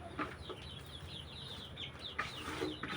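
Free-range local chickens cluck softly while eating cut grass outdoors, with scattered short calls and gentle pecking sounds at a moderate distance over faint background noise.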